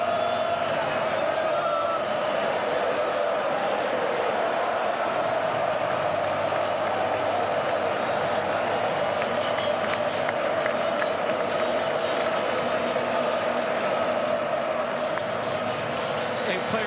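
Football fans at the World Cup cheer as Messi and his Argentina teammates celebrate arm in arm. A dense, steady stadium crowd roar continues throughout, with commentary voices running over it.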